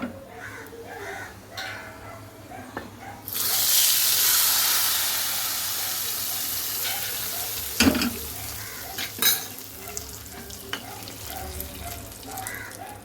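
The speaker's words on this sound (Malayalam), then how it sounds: "നമുക്കത് കറിയിലേക്ക് ചേർത്ത് കൊടുക്കാം കേട്ടോ" Fried chillies tipped into a mango pulissery curry give a sudden loud sizzle that hisses on and slowly fades, followed by a few stirring clinks against the pan, with a bird calling faintly outdoors.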